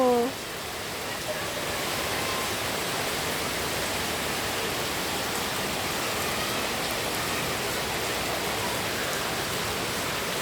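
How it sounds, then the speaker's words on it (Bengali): Steady, heavy rain hisses evenly throughout after a brief voice at the very start. "কি সুন্দর বৃষ্টি হচ্ছে"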